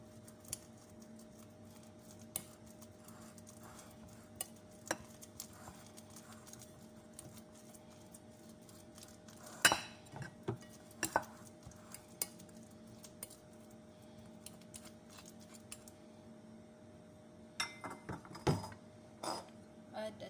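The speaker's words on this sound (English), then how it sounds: "we smash the banana" Bananas are mashed in a bowl for homemade banana cake, with soft irregular taps and scrapes of a utensil against the dish, faint and close, sparse at first and busier toward the end.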